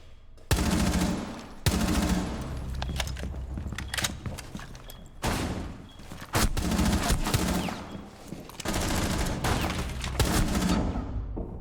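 Shotgun blasts in a video game come as loud, dense bursts of repeated gunfire in several clusters, with brief gaps between volleys and no talk.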